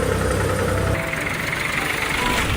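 A diesel tractor engine runs steadily on the road to the market, a close, constant low rumble with no talking.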